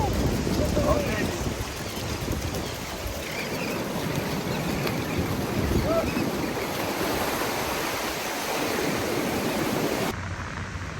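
Ocean surf at Oceanside beach during open-water swim start practice, a steady broadband wash of breaking waves with wind buffeting the microphone throughout, no clear talk.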